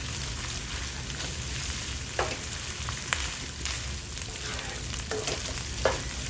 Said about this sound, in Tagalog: Nasusunog yung ating bawang at sibuyas.